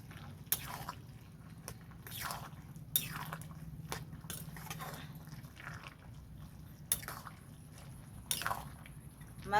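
Meat ghugni is stirred in a pan, making faint, soft wet squelches and scraping strokes spaced irregularly over steady low background hiss.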